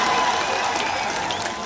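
An audience at a live show claps together on request, a dense, bright wash of applause that holds steady and close for the whole moment before easing slightly at the end.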